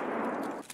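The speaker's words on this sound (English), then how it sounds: "People shooting, it sounds like underneath." A dense, steady burst of rapid video game gunfire fills the short clip, loud and continuous, then cuts off abruptly near the end.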